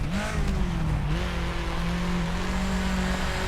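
A 1995 Subaru Impreza WRX STI in Assetto Corsa, driven on rally lines, holds a loud, steady engine drone whose pitch dips and then climbs again, over a rough layer of tire and road noise.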